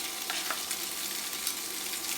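Noodles frying in hot oil in a pan for a beef and vegetable stir-fry, a soft continuous sizzle with occasional crackles and stirring, no talking.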